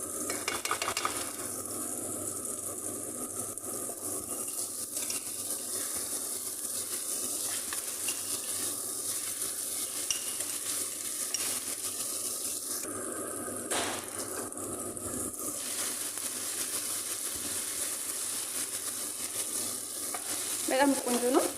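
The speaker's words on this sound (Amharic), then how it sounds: "እንደዚህ ከጠባበስነው በኋላ" Shrimp biryani base with tomato paste frying and being stirred in a pan, a steady sizzle with scraping spoon strokes throughout, close and alone with no talk.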